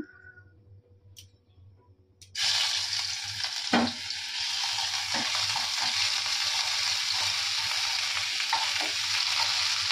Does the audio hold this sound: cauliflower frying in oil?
yes